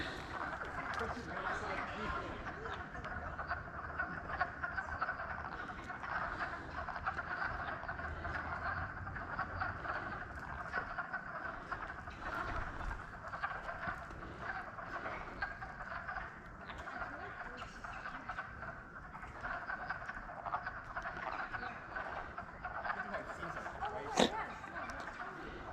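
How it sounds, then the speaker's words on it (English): A dense, continuous chorus of many frogs croaking steadily in a pond at a distance, a droning wall of calls with no pauses. "let's go see what all this noise is with the frogs"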